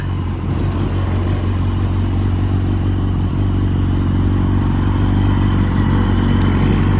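A 2014 BMW S1000RR HP4 sport motorcycle idles steadily and loudly up close after a cold start, a deep constant rumble with mechanical clatter and no change in pace.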